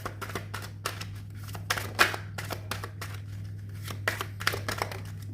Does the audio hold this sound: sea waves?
no